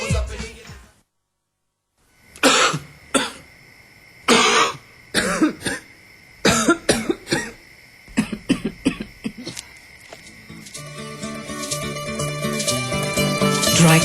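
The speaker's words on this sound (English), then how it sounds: "Dry cough, wet cough, sore throat" Several separate coughs, some harsh and some throaty, come in short bursts with pauses between, followed by a swelling musical tone at the end.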